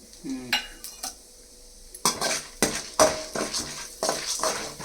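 Mustard seeds, urad dal and black pepper fry in oil as a tempering for curd rice, with sharp metallic clanks of a spoon stirring the pan over a light, intermittent sizzle.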